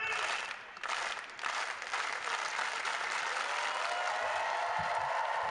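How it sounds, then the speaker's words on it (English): Crowd applause at an indoor college tennis team championship match, a broad, steady wash of clapping from many spectators held at moderate distance throughout. "First slow clap of the day as well."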